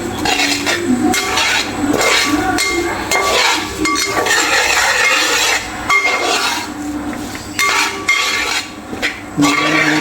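A spoon stirs fish pickle masala with green and dried chillies in a pan, giving close scraping and clinking against the metal over a soft sizzle, in irregular strokes with brief pauses.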